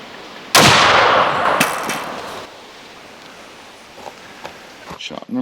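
One loud, sharp gunshot from a Thompson Center Hawken muzzleloader rifle fired outdoors, followed by a long rolling echo that fades into faint rustling.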